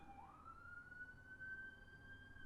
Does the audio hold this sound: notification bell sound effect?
no